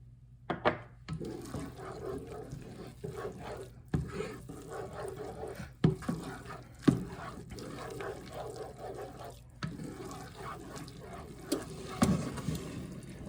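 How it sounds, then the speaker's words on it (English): Parmesan cheese being stirred into a pot of risotto, giving soft, wet, intermittent squelching and scraping with a few sharper knocks spread across the clip. "we're going to stir in some Parmesan cheese."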